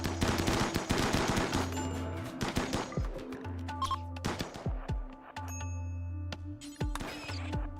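Rapid gunfire in the colony-building game Rimworld, with dense bursts of close, sharp shots that thin out into scattered single cracks, set against a repeating low tonal hum from the game.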